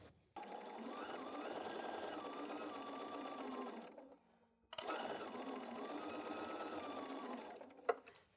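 A sewing machine stitches a fabric basket cuff, whirring at a steady buzzing speed in two long close runs separated by a brief pause.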